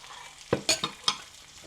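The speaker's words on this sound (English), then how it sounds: "Excuse me while I beat my eggs." Eggs beaten in a bowl, heard as four quick, sharp clinks of the utensil against the bowl spread over a second or so, close and fairly quiet, with no talking.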